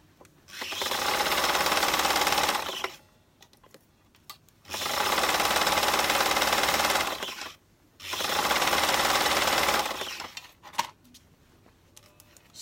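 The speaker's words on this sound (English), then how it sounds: "now I'm going to continue sewing" A sewing machine runs three long, loud, steady bursts of stitching through stretch fabric for a maxi skirt, with brief quiet pauses and soft handling clicks between runs.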